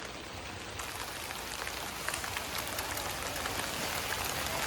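Heavy rain pours down at a dam in a dense, constant roar of drops, loud and unbroken throughout.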